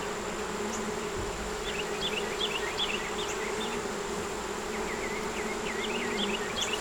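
A dense, steady hum of many honey bees buzzing close by around hive frames, continuous throughout, with faint bird chirps in the background.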